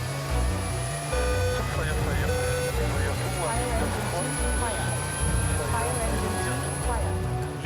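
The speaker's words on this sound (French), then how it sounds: "Les Caïmans sont des hélicoptères transporteurs de troupes." A Caïman military troop-transport helicopter's steady rotor and engine drone fills the scene, loud and close, with people talking over it throughout.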